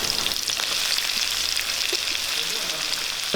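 Chopped onions sautéing in a pan for soya chunks masala curry, a dense, even hiss of frying oil held close and constant with faint scattered crackles, no speech.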